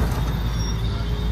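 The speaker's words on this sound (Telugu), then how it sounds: "ఇక్కడ ట్రాఫిక్ ఉంది కాబట్టి, చాలా ట్రాఫిక్ ఉంది," Heavy road traffic in Delhi, a dense continuous rumble of buses and other vehicles close by, steady and loud with no clear breaks.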